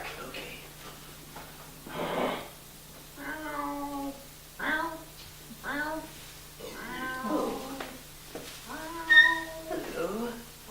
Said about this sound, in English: Hello, kitty. Hello. 1 meow, 2 meow.